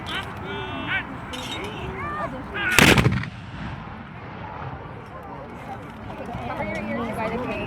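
A single sharp musket volley cracks loudly in a War of 1812 battle demonstration at Fort York, a brief broadband burst between stretches of background talk and crowd murmur.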